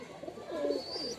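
Young pigeon chicks give a soft, brief coo at close range, a single low warbling call with faint chirps at the end.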